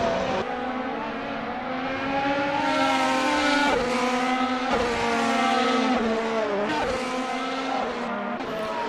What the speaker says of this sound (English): Olivier trying to overtake Deacon, and he's making it